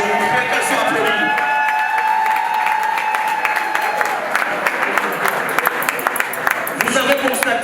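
Wedding guests at Esther and Freddy Nzue's reception break into applause. A voice carries over the opening moments before the clapping swells, dense and fairly loud, and continues to the end, with scattered cheering.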